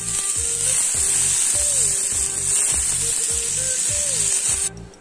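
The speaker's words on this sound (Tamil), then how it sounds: "இப்போ நான் கொஞ்சமாக பட்டர் சேர்த்துக்கிறேன்." Butter sizzling on a hot tawa for a bread omelette: a loud, continuous hiss with regular scraping strokes of a spatula across the pan, close up, before a sudden drop at the end.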